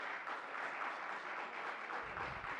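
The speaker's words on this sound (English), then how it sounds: "We're not going to wait for applause." Sustained applause from an audience at a school board meeting, a steady dense patter of many hands clapping at moderate volume, with a low rumble entering near the end.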